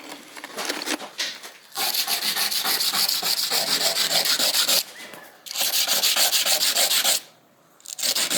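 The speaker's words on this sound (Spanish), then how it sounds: "la vamos a lijar para que nos quede suavecito todos los bordes" A cut mosaic piece, its edges left irregular by pliers, is sanded smooth in steady, rhythmic rubbing strokes. The scraping runs in long close bursts separated by short pauses.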